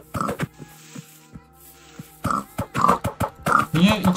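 Pig grunts from the video game Minecraft, a few short snorting calls scattered among speech, with a voice talking over much of it.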